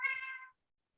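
A house cat gives a single clear, close meow lasting about half a second, then silence follows.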